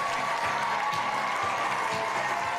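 School crowd in Winston-Salem applauding and cheering for a janitor, dense continuous clapping with voices mixed in throughout, loud and close.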